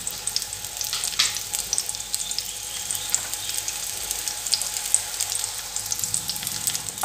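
Shallots and six dried red chillies sautéing in oil for a tomato coriander chutney, a continuous crackling sizzle up close with small pops and light stirring scrapes.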